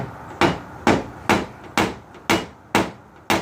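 Paintless dent repair on an '82 Trans Am: a hammer taps the thick metal body panel seven times in a steady rhythm, each strike a sharp close knock with a short ring.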